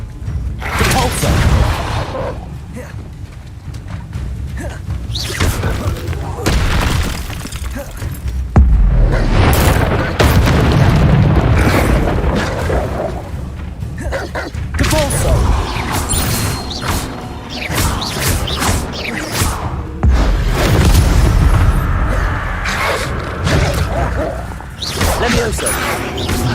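Repulso spell blasts in Hogwarts Legacy land as repeated loud booms and crashing thuds with whooshes scattered through a busy stretch of combat, while a voice talks intermittently over the action.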